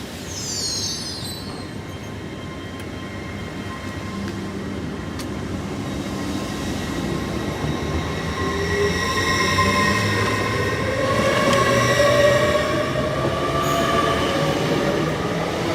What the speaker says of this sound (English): LNER service from Leeds to London King's Cross